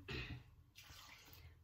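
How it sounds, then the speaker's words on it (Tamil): Water is poured into a cooking pot to partly cover vegetables for Kerala-style avial, giving a faint close splash that comes in two short bursts. "ஒரு ரெண்டு கப் மாதிரி தண்ணி விட்டு"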